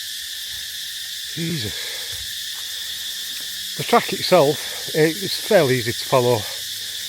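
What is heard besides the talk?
crickets chirping loudly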